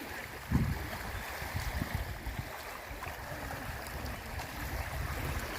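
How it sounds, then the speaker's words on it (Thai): Strong waves of water churn in a steady low rushing wash that continues without pause, with a few deeper surges near the start. "น้ำคลื่นแรงมาก"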